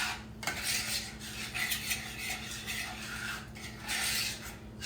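A small spoon clinks and scrapes against a dish of baked jicama keto baked beans, with close, irregular metallic taps and stirring rubs and no voices.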